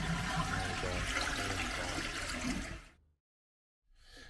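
A toilet flushes after a valve fitting, and the cistern refills with a loud, rushing torrent of water close by. It cuts off abruptly into silence, then the water resumes.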